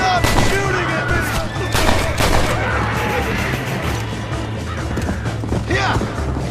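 Gunfire in the Red Dead Redemption video game rattles in dense, loud volleys of overlapping shots amid a chaotic game battle, with voices shouting over it.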